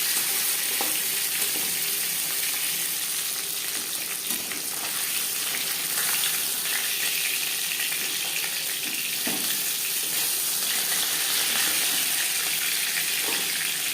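Steady, loud sizzling of live katla fish frying in oil in a home kitchen, a continuous hiss with occasional pops and spatters throughout, no voices.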